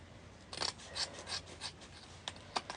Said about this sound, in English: I'm going to do my little snip, snip.